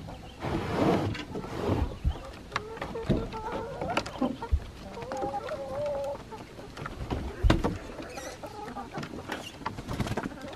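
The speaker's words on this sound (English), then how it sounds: "I think that one chicken's pretty funny" A chicken on a four-acre rural property clucks in quick, uneven bursts, close and fairly loud, with scattered sharp knocks and background noise between the calls.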